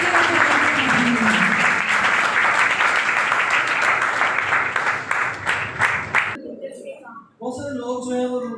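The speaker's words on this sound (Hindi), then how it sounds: "इन्हीं हाथों को मिलाकर जोरदार तालियां बजाइए खुदावंद के नाम के लिए" A church congregation gives loud, sustained applause with voices mixed in, which thins out and breaks off near the end as a single voice carries on alone.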